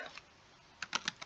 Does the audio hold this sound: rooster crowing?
no